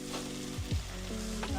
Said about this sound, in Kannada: ಇವಾಗ ನೆಕ್ಸ್ಟು ಟೊಮೊಟೊ ಹಾಕ್ತಾಯಿದ್ದೀನಿ.